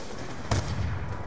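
A single sniper rifle shot in Call of Duty: Black Ops 2, one sharp report midway through over a steady, low game ambience.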